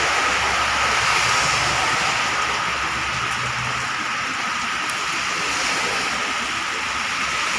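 Heavy morning rain pouring down, a loud, dense, steady hiss of rainfall that continues unbroken throughout without voices.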